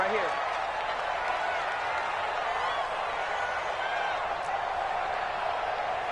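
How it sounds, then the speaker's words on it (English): A crowd roars steadily in a PS4 American football game as a big third down approaches, the broad cheering and applause sustained and fairly loud, with a commentator's voice talking over it. "The crowd getting into it as we come up on a big 3rd down."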